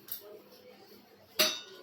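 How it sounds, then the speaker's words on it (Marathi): Two sharp clinks of ice cubes dropping into sweet betel leaf sherbet, one light near the start and a louder one shortly before the end, otherwise quiet. "इथे ना बर्फाचे दोन तुकडे टाकायचे आहेत"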